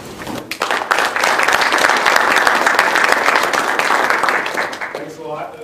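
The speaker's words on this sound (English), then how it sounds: "The applause might be a little premature" An auditorium audience bursts into sustained, dense applause to welcome a guest speaker at a university lecture, loud and steady for several seconds before tapering off as a voice begins.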